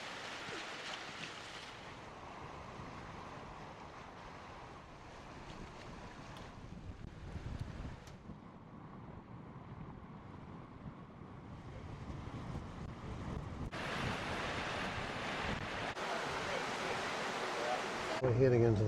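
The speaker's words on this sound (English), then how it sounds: "We're sailing along quite nicely. It's about a 12 knot easterly." A sailboat runs in a 12 knot easterly wind, with steady wind rush over the microphone and water swishing along the hull, under talk throughout.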